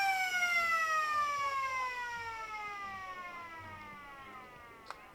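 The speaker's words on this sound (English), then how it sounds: "There's the siren. siren goes for half-time." Half-time siren at an Australian rules football match in a Riverina AFL game between the Lions and the Rovers, a loud sustained wail that slowly drops in pitch and fades over several seconds with crowd ambience beneath.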